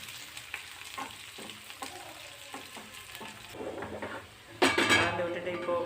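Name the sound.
stirring fried anchovies and curry leaves in oil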